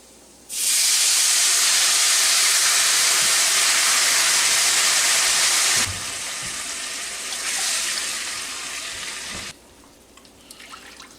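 Water poured into a hot pan of browning rice for chicken Rice A Roni sets off a loud, steady hissing sizzle that flares suddenly, holds for about five seconds, then eases into a softer, uneven bubbling simmer that fades.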